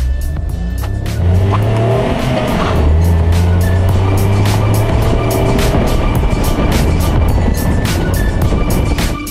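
A Volkswagen Up 1.0 engine roars and revs hard as it accelerates past about 2,000 RPM, loud and close, with tire noise and a rising drone, no voices.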